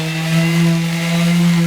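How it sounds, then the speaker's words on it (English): Power sander running steadily on a wood piece for a backyard project, a loud continuous whine with a strong steady hum throughout, no talk. "Let's give this a quick sand."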